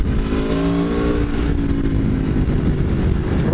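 A motorcycle engine runs loud and close, with a rough steady drone and one rising rev as the bike sets off on a ride at Donington Park.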